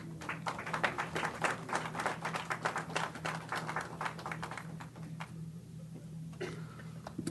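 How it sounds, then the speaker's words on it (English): Applause at a city council meeting, a steady crowd clapping that holds for several seconds, with a low hum running underneath and a slight dip in density near the end. "let's give them another round of applause"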